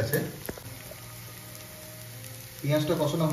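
Mutton meets hot oil and fried onions in a pan for tehari: a short burst of sizzling at first, a quieter simmering hiss, then a louder rush of frying near the end.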